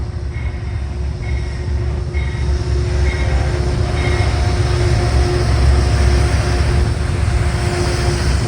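A commuter train leaves Harlem 125th Street station with a steady, loud rumble and a sustained engine hum that builds gradually. No one speaks.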